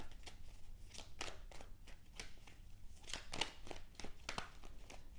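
Tarot cards being shuffled, a run of quiet, quick riffling and flicking bursts in an uneven rhythm, close and soft with no talking.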